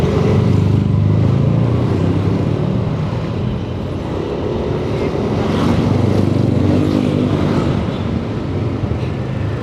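Dense road traffic crawling in a jam on a route near Cijayanti and Bojongkoneng, with cars and motorcycles idling and revving nearby, a steady loud engine drone with no speech.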